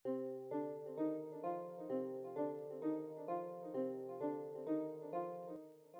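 Electra plugin sound processed with Gross Beat, delay and EQ for an ambient type beat: a looping harmonic tone in a steady pulsing rhythm, each repeat swelling and fading, clean and alone.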